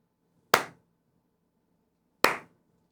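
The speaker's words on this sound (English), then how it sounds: "I need you to give the slow clap of the day" Two single hand claps spaced well apart, a slow clap given at a lively morning show, each sharp and fairly close with a quick decay, separated by about two seconds of near silence.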